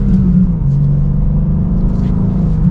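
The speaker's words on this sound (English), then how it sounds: "I do like how that exhaust sounds in the stock form." Deep, loud exhaust rumble from a stock-exhaust 2024 BMW M2 with manual transmission as the engine pulls under acceleration, a steady low drone with slight rising tone, close and continuous.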